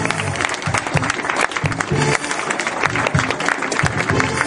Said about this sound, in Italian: Se l'applauso fosse un po' più caloroso non sarebbe male